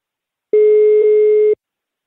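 A telephone busy tone sounds after the other party hangs up. A single loud, steady electronic beep lasts about a second and stands alone between stretches of silence.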